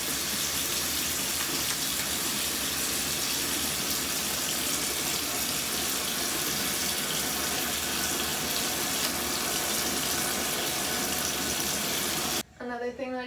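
Tap water runs steadily into a sink while a person washes their face, a continuous close hiss that ends abruptly near the close.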